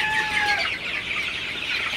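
Chickens on a poultry farm cluck and squawk together in a busy, overlapping chorus, close by and fairly loud.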